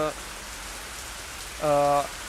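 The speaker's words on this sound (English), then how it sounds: "the rain sound is very loud" Rain falls as a steady hiss throughout, with brief tonal electronic sounds cutting in at the start and again near the end.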